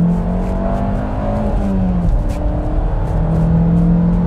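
Inside a tuned Fiat Bravo 1.4 T-Jet Stage 1, the engine pulls hard under acceleration, its note rising, dropping at a gear change, then climbing again, loud and close throughout.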